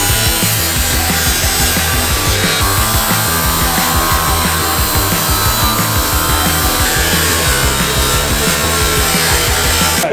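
Power saw cutting continuously through the steel floor pan of a BMW car, a loud, close, rough grinding rasp with a dense rapid stroke texture throughout.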